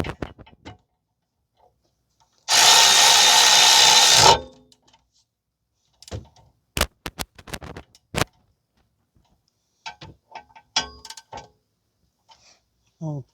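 Power tool tightening bolts on the rear brakes of a 2010 Toyota Corolla 1.8, with one loud buzzing burst of about two seconds, followed by scattered clicks and clanks of tools and parts.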